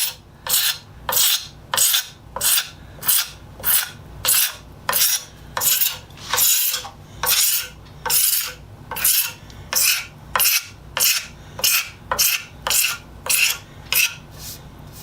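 A blade scraping varnish off a new sledgehammer handle in steady, evenly spaced rasping strokes, about one per second, close and crisp with no voices.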